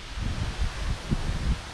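Gusty wind buffeting a microphone beside a school bus during back-window removal, low rumbling thumps rising and falling in short bursts, with no voices.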